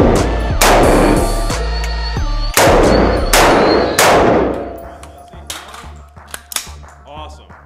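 AR-15 rifle shots on an outdoor shooting course: a rapid string of loud, close, sharp reports, then a scatter of quieter pops and clinks as the firing stops.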